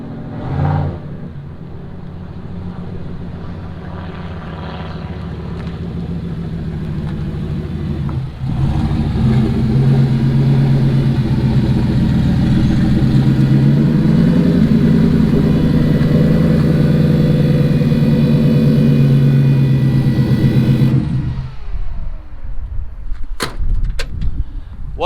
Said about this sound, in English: I hear Zach pulling up.